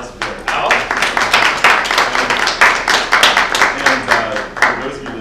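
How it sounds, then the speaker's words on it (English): A group claps in a round of applause for the guest at the close of an ask-me-anything session with a certified career coach, a loud, dense patter of many hands sustained for about five seconds. "If everyone can give a round of applause for Al."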